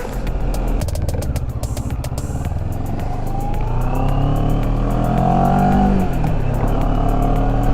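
A small-displacement CF Moto motorcycle in sport mode idles with a rapid mechanical ticking, then its engine note rises and swells as a gear engages. The sound is loud, close, and steady throughout.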